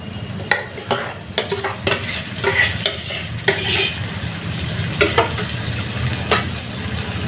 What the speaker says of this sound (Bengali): এখন মশলার সঙ্গে আলুটাকে খুব ভালোভাবে মিশিয়ে দিতে হবে